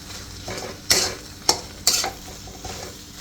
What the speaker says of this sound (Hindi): अब इन सभी को मिक्स कर लेंगे हम।